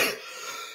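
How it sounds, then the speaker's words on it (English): A single short cough, fairly close and loud at the start, then trailing off into quiet room noise with no talking. "Give me 3 coughs."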